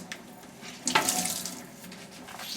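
A sink tap runs water while a Norwex mop pad is held under the stream and wetted, a steady splashing hiss that grows louder as the flow hits the pad.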